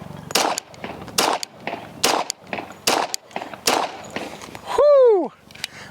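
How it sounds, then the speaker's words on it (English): A Kimber Warrior 1911 pistol fires 230-grain Ammo Inc. rounds at a 10-yard outdoor range: about seven sharp reports in an uneven series, each followed by a short echo, then a brief rising whistle-like tone at the end. "We're shooting some Ammo Inc. 230 grain, 10 yards out."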